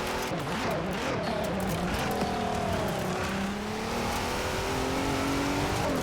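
A 2019 Hennessey VelociRaptor 6X6 truck in Forza Horizon 4 revving and accelerating, its engine note climbing steadily with some tire noise, loud and close throughout.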